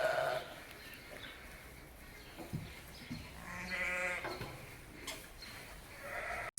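Weaned ewes bleat on a wool farm, several wavering calls at a moderate distance over a steady outdoor background, one clear bleat in the middle and fainter ones around it.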